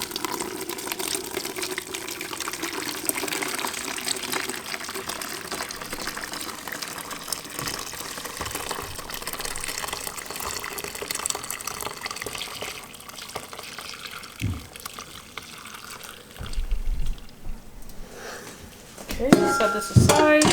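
Homemade grape juice for water bath canning trickles and splashes steadily through a small kitchen strainer, a continuous liquid pour over about twenty seconds, with a few clinks toward the end.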